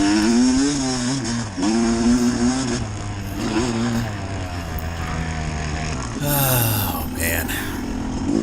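A dirt bike revs and shifts pitch repeatedly on a grass race track at Plymouth Blackhawks, its engine loud and close with rising and falling harmonics, and a short spoken exclamation over it.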